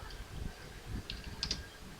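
Typing on a computer keyboard at a desk: a few quick, light key clicks close by, with a short burst of taps near the end and faint background hum.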